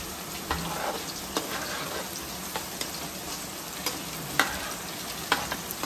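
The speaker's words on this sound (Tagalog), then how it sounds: "Bawang. Dapat ito ara-arawin natin." Garlic frying in a pan for adobong kangkong, a steady dense sizzle with occasional sharp pops and utensil clicks, close and continuous.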